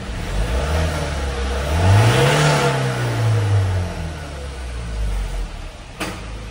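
Ford Everest 2.2 diesel engine starting up and revving, its pitch rising and falling over a few seconds before settling to a steady idle, close and fairly loud.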